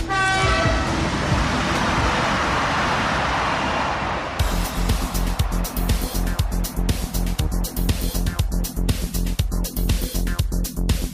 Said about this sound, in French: Aujourd'hui, à 320 km/h, un TGV franchit 89 mètres de rail par seconde.